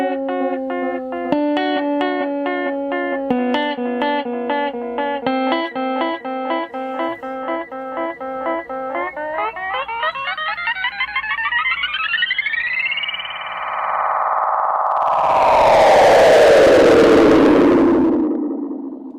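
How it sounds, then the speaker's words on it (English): A Cerberus effects unit set to tape echo repeats guitar notes in steady trailing echoes, then the pitch of the repeats warps and sweeps downward into a loud, smeared, feedback-like swell before it fades. "Tape echo."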